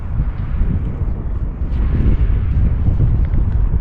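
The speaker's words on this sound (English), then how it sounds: "That wind picked it up." Strong wind gusts buffet the microphone during a windy-day RC Sbach stunt plane flight on a 3S battery at full throttle, a loud continuous low roar that swells and thrashes throughout with no talk.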